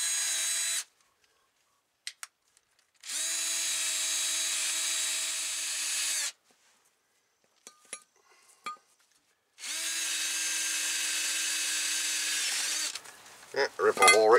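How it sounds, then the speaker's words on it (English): A powered wire brush whirs in two long bursts, loud and close, cleaning a rusty brake caliper bracket on a 2012 Dodge Ram 1500, with brief clicks and taps between runs. "I use the wire brush first to get all the loose stuff off"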